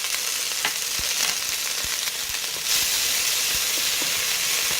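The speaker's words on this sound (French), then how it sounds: "Je vais faire revenir dans un filet d'olive." Ingredients fry in a drizzle of olive oil with soy sauce for a Chinese-style soup, a dense hissing sizzle with occasional soft ticks and pops, growing slightly louder midway.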